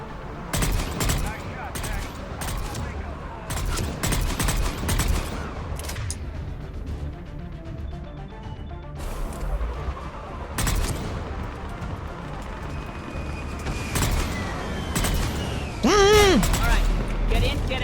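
Gunfire in Mass Effect 3 during a swarmed shuttle fight, rapid loud bursts of shots in clusters with booms, mixed with voices talking over the combat.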